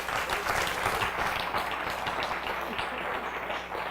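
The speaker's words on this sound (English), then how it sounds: "Mr. Shu Chen, if I can have a round of applause, and Mr. James Felice." A small crowd at a WPI MATLAB demo event applauds in a brief, fairly faint burst of steady clapping that runs throughout.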